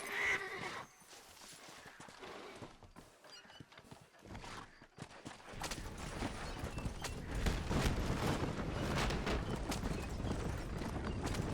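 A horse in the Western game Red Dead Redemption draws near, neighing with clip-clopping hooves. It is quieter at first, then grows louder and fuller through the second half with a dense, close wash of sound.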